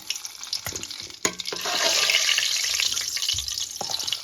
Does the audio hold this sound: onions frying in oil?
yes